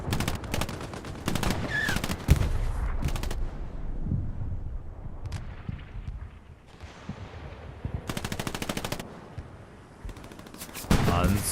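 Machine-gun and rifle fire crackle through a WWII Afrika Korps versus 8th Army skirmish at El Alamein in North Africa, with bursts of rapid automatic fire and single shots, loud and near at the start and returning in dense volleys later.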